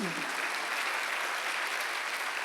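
Applause from a church congregation during Sunday worship, a dense, even roar of clapping from many hands that holds steady throughout, with a brief voice at the very start.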